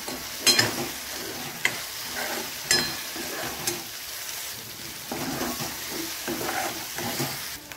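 A ground masala paste for Khandeshi dal methi bhaji cooks on a low flame, giving a soft continuous sizzle with intermittent spatula stirs and scrapes against the pan, close up and moderately quiet, no voices.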